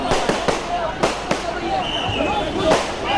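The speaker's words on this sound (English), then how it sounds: "So you can see this is non-stop fireworks, rockets, and other things as well." Fireworks, rockets and firecrackers bursting non-stop at a crowded street celebration for a film star's homecoming, sharp cracks and bangs recurring every half second or so over a steady roar of crowd noise and voices.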